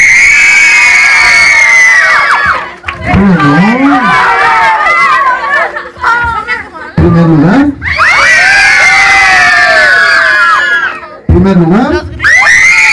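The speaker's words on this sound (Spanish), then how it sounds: "con puros aplausos vamos a ver quién se lleva el primer lugar." An audience at a clown show voting for first place bursts into loud cheering, screams and children's shouts in waves, with a brief lull between surges; clapping is not distinct under the yelling.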